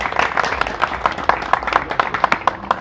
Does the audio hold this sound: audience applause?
yes